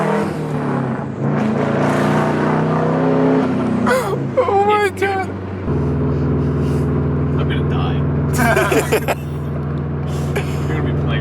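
A Subaru WRX STI with a 3-inch straight-pipe exhaust revs loudly, then settles into a steady, raspy droning idle, while excited voices shout and exclaim over it.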